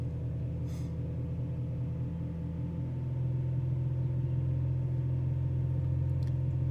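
Vauxhall Corsa engine with a failed thermostat held at 2,500 RPM, a steady close mid-pitched drone with a faint, slightly uneven hum that thickens a little partway through, with no one speaking.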